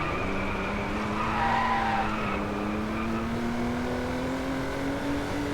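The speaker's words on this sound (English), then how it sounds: "And that V6 is heavenly, which is why Jag still produces pretty much one of the best sounding cars today." A Jaguar XJ220 with a V6 engine drones steadily and loudly in the Driveclub racing video game, its pitch climbing gradually as it accelerates, with a hint of tire squeal.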